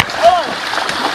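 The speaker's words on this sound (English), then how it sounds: "Come on, just jump in the water." A quick, loud splash comes from someone jumping into water outdoors near the start, followed by lighter watery sloshing, with a voice audible.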